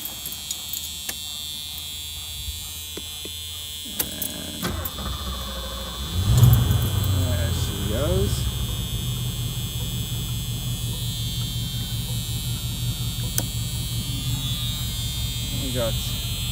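A Cougar XR7 convertible's engine cranks and catches, then settles into a steady low idle. A faint buzz runs throughout, and a voice speaks briefly over it.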